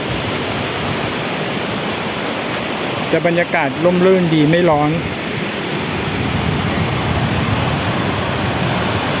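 Constant rushing roar of Mae Klang waterfall at Doi Inthanon, Thailand, in heavy flow, fills the scene; a person speaks briefly over it midway, then the steady water noise carries on alone.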